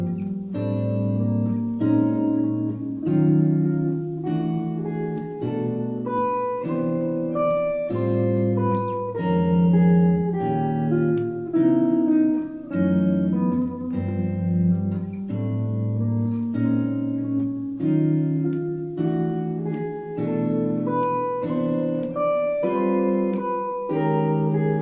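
Jazz chord voicings from a tune are strummed on guitar, a steady run of rich, ringing chords played up close for about twenty-five seconds without any talk.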